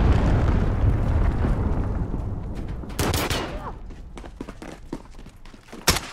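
A cruise missile strike in Call of Duty Modern Warfare online multiplayer: a heavy, rumbling blast and roar that fades out, followed by scattered sharp pops and crackles of gunfire.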